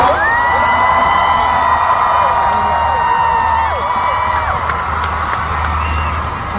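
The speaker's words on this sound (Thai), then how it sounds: "ขอเสียงปรบมือดังๆ" A huge crowd at an outdoor concert during the 2023 Encore tour cheers, screams and whoops loudly and continuously, with high-pitched shrieks rising and falling over the dense roar of the audience.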